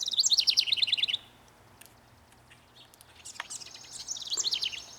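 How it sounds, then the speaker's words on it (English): Small birds near their nest in a garden give rapid, high chirping trills, a bright burst at the start and another toward the end, with quieter scattered calls and faint outdoor ambience between. "Not things, birds. I think I'm getting a little too close to their home."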